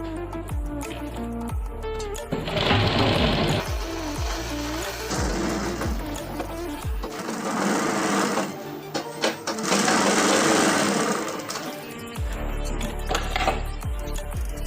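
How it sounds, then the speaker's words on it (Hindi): A sewing machine runs stitching along a gharara, its rapid mechanical chatter coming in long close bursts separated by brief pauses while the fabric is repositioned. "अब इस पे लब की सिलाई चलाते हैं।"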